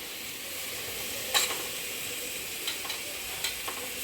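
Tomatoes sautéing in a pan for a chicken curry give a steady, soft sizzle, broken by a few brief stirring scrapes near the middle and toward the end. No voices are heard.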